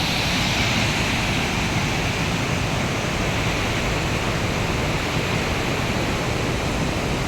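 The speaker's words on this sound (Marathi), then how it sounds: "तुम्ही बघू शकता पाण्याचा प्रवाह बघू शकता" Water rushes continuously at Bhatghar dam in Maharashtra, a loud, unbroken roar of broadband noise with no pauses and no voices.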